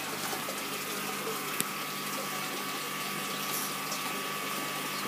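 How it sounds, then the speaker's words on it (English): An MP10 aquarium wave pump in a fish room churns and gushes water steadily under a constant pump hum, a close, unbroken wash of sound. "A bit of movement on the top, surface of the water."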